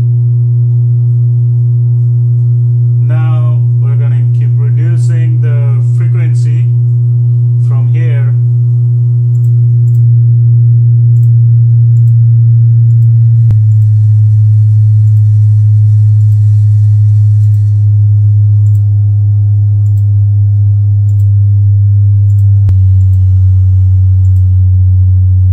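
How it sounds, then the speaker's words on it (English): Steady low bass test tones from a Logitech Z337 subwoofer, dropping in stepped pitch from 120 Hz toward lower frequencies, loud and continuous for the whole span, with a short burst of talk early on over the hum. "you can hear the sound. It's only coming from the subwoofer."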